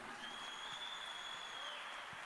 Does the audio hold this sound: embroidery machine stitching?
no